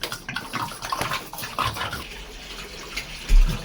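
Drinking water pours into cans, a running, splashing flow with gurgling bursts that varies in level, close by, ending with a louder low thump near the end.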